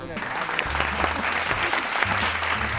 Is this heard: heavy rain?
no